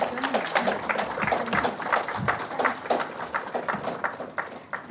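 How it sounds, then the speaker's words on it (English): Scattered applause from an academic workshop audience, moderately quiet with irregular individual claps and some voices mixed in. "A round of applause, please."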